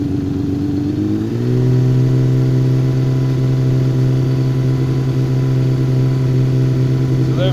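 A Honda CBX motorcycle engine climbs from idle to a steady 2800 RPM, the pitch rising after a second and then holding a loud, even drone close by.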